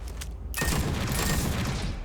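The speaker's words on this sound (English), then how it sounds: "Grenade launcher." A grenade launcher fires in the sci-fi shooter Starfield: a dense, loud burst of blasts and crackling explosion noise erupts after half a second of quieter sound and rumbles on steadily to the end, with no talking.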